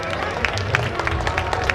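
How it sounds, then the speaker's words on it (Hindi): An audience at a Sant Guru Ravidas birth anniversary celebration in Phoolbagh, Kanpur claps to welcome the chief guest, a brief burst of steady, close applause with crowd murmur underneath. "आप सब लोग तालियों के गड़गड़ाहट के साथ स्वागत करें।"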